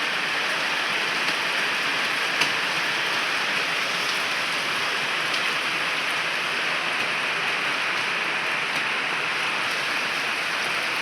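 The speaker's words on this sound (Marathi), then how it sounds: "आणि जोरदार पाऊस येतोय." Heavy rain pours steadily on a road outside, a dense, continuous hiss with faint scattered drop taps throughout, loud and unbroken with no voices.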